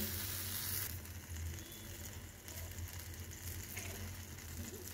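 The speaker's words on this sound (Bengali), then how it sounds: "কড়াই গরম হয়েছে, জাস্ট সামান্য পরিমাণে ঘি দেব" Ghee hits a hot kadai and sizzles in a quiet, steady crackle for a few seconds. Faint scraping and metallic rattles sound underneath, with no voices.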